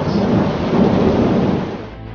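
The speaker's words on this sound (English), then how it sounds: "heavy rains occurred in the state of Gujarat" Heavy rain and thunder from a storm over Gujarat, India, a loud, dense continuous roar of downpour with deep rumbling throughout, steady and close with no voices.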